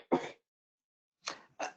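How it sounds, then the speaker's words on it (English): A person coughs during an online talk, one sharp cough followed after a pause by two more in quick succession, close to the microphone and otherwise silent. "Excuse me while I have a cough."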